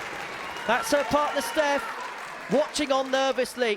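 Crowd applause at the Winmau Women's Championship darts final, a steady clapping wash sitting underneath someone commentator's continuous talk.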